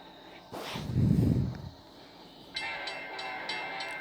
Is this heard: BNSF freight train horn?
yes